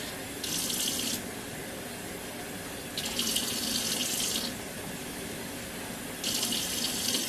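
Hot water runs from a kitchen tap into a pot of homemade chicken soup, three separate steady bursts of gushing flow with quieter gaps between, fairly close.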